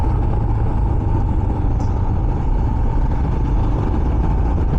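A motorcycle cruising at speed on a road in Goa gives a steady, unbroken drone of engine and wind rush, close and constant throughout with no speech.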